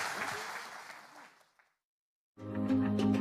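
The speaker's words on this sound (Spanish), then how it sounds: "Denle ese aplauso al Rey bendito." A church congregation applauds for the king at an apostolic visit service in Honduras, a steady wash of clapping that fades out into silence before music begins.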